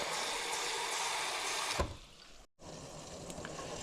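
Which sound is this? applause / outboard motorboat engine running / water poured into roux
water poured into roux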